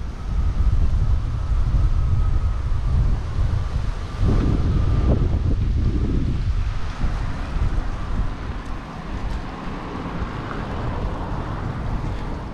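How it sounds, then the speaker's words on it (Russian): Steel cables humming and whistling in strong wind on a street lined with flowering tabebuia trees, a steady broadband roar with a faint sustained tone running throughout, loud and continuous with brief gusty swells. "Это их стальные тросы, обдуваемые ветрами, издают эту мелодию."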